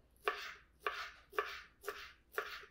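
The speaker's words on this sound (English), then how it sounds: "we're just gonna cut up the dill" A knife chops fresh dill on a board in five even, crisp cuts, close and distinct, with short pauses between strokes and no talking.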